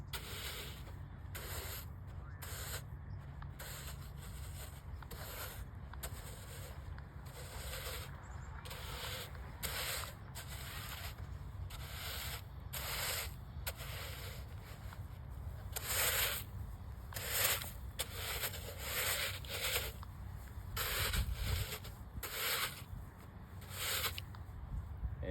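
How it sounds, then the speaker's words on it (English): Rake dragged through sand in a golf bunker to smooth and flatten it, giving repeated soft scraping, hissing strokes close by in an uneven rhythm, rising a little louder near the end. "start from where I hit my ball and just kind of rake it and flatten out the sand here"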